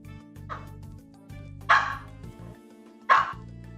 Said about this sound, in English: I know that it's hard to be a dog sometimes.